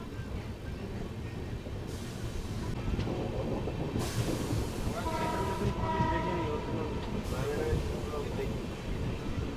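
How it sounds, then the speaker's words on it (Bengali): Sealdah–Balurghat Express pulling out of Eklakhi junction, a steady low rumble of the train rolling under continuous noise, with brief horn-like tones around the middle and voices talking over it. "আমাদের ট্রেন ছাড়লো একলক্ষী থেকে নির্দিষ্ট সময়ে।"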